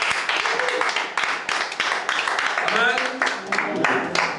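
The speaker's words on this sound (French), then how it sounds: "Acclamons pour le Seigneur." Church congregation applauding and cheering in acclaim to the Lord during a French-language worship service, a steady dense roar of clapping and voices filling the room for several seconds.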